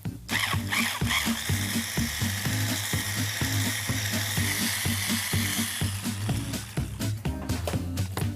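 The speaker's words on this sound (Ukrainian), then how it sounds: "міняємо насадку на блендері і збиваємо все вінчиком" A hand blender with a whisk attachment whirs continuously through a pumpkin casserole mixture with sugar, its motor buzzing and rattling in quick pulses close by, with no voices.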